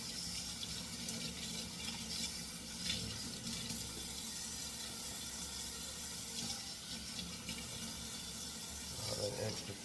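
Tap water runs steadily into a sink while Cornish hens are rinsed of salt, a continuous faint splashing hiss with small shifts as the birds move under the stream.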